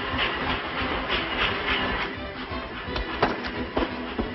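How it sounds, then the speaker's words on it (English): An approaching train in a 1935 Western, with steady rumbling, hissing steam and a run of rhythmic clacks and chuffs that grow louder and sharper toward the end, heard on its own with no talking. "The train! The train!"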